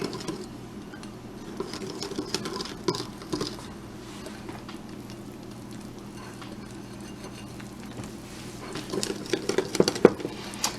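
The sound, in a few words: whisking red velvet brownie batter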